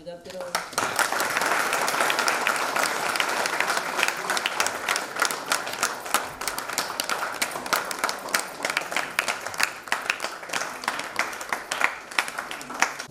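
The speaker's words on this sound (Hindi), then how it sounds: "क्यों नहीं ताली वाली बजाते रहो" An audience at a one-day leadership program in Rampur claps continuously, a close, busy patter of many hands that swells early and stays strong for the whole stretch.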